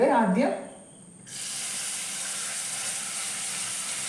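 Chopped ginger dropped into hot coconut oil in a pan for a drumstick curd curry, giving a steady close hiss of frying that sets in after a brief spoken word and holds to the end.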